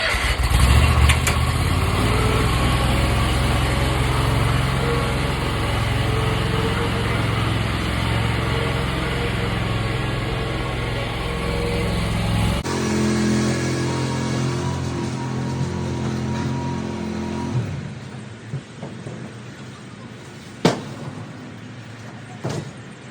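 A Big Z zero-turn mower engine runs loud and steady up close, then cuts to a truck engine with a lower rumble that fades, leaving a few knocks and clatters near the end.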